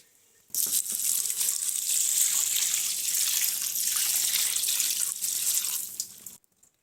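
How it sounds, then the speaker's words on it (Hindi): Spinach rinsed under a running kitchen tap to clear out sand and soil, a loud steady rush of water starting abruptly, splashing over the leaves for several seconds, then cutting off, with no talk. "खुले पानी में इसे धोते हैं ताकि जो रेत होती है अच्छे से निकल जाए"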